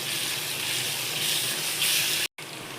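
Ginger garlic paste sautéing in a pan for prawn gravy gives a steady, close sizzle and hiss that holds evenly, then cuts out abruptly for a moment before resuming.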